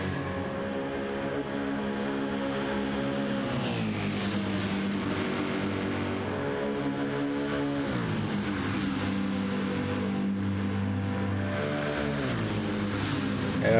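A GT race car on a fast qualifying lap at Spa in a racing game, its engine droning steadily and loud with pitch sweeping up through the gears, dropping at shifts and climbing again, no voices over it.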